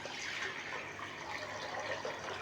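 Water being poured into a kadhai set on a stove over medium heat, a soft, steady splashing and gurgling stream at low level with no speech.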